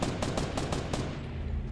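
Video game gunfire in Fortnite, a rapid burst of about six sharp shots in quick succession followed by a fading tail, close and fairly loud without talk.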